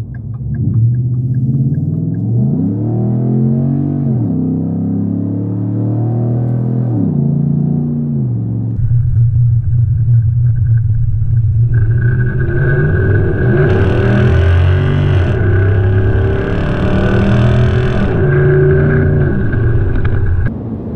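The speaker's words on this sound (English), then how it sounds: "I found an on-ramp where I can give this thing full throttle and not get a ticket" Car accelerating at full throttle up a highway on-ramp, a loud engine roar whose pitch climbs and drops through gear shifts, then settles into a steady higher cruising drone.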